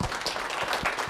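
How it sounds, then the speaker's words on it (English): A conference audience at a Nagios tech event claps in a brief, dense burst of applause, loud and close, with no talking. "please put your hands together and give a round of applause, David Josephsen."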